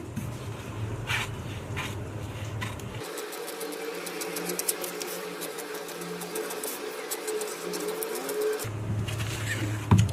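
Scissors cut blouse cloth for a single katori cut blouse, a run of quick, even snips close by over a constant low machine hum, with no one speaking.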